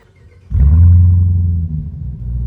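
A 2021 Dodge Durango SRT Hellcat engine cranks and fires, snapping into a loud, deep roar that settles into a heavy, rumbling idle.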